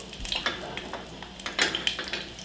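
Garlic pieces fry in olive oil in a pan, giving a steady close sizzle with scattered crackles and a few light utensil stirs and clinks, no talking.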